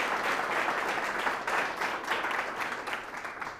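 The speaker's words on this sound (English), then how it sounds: "Please, one small applause just." Audience applause at an MTF gathering in Pula, a short round of crowd clapping heard alone, moderately close and gradually fading toward the end.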